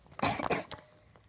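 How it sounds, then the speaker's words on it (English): A single short cough, a couple of quick bursts close to the microphone, followed by quiet. "now I just coughed"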